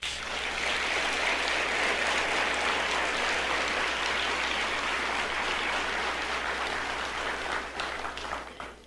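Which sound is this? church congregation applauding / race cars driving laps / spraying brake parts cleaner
church congregation applauding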